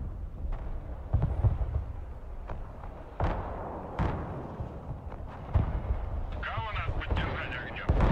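Mortar and Grad rocket artillery fire in the Broken Arrow video game lands as a series of separate heavy thumps and blasts at irregular intervals, with a crackling rocket salvo toward the end.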